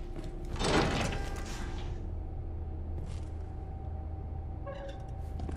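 A heavy door in the video game Resident Evil 2 Remake slides open with a loud rumbling scrape at first, followed by a low mechanical drone and faint clicks.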